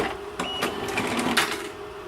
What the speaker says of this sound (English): and starts the printing process